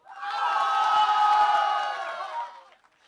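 Audience at a Bollywood film music launch cheering loudly, a dense burst of shouting voices and claps that rises quickly, holds, then tapers off near the end.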